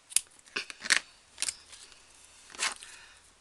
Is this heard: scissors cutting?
yes